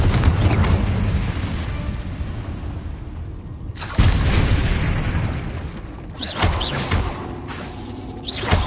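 Confringo spell explosions in the video game Hogwarts Legacy: loud booming blasts that repeat one after another over a dense rumbling bed of game sound, with no pause between them.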